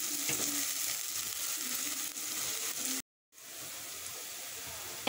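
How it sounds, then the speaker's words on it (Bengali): Chopped onion frying in oil in a pan, a soft, even sizzle heard close and fairly quiet, broken by a brief silence partway through. "পেঁয়াজটাকে দিয়ে নেড়ে চেড়ে নরম করে ভেজে নিতে হবে।"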